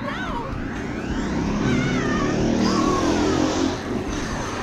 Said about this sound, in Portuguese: A moto voadora